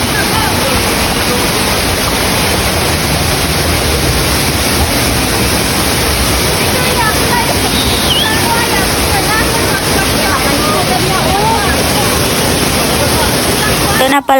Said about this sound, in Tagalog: Ito na pala yung ika-9 falls mga kaababing.